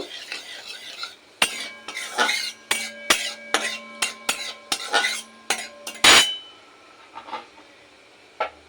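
A black cumin tempering is stirred in a pan with a metal utensil, giving a run of sharp, close clinks and scrapes in a quick irregular rhythm. The clinks thin out to a few isolated taps over a faint sizzle.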